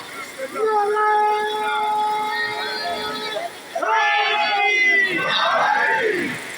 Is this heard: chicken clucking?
no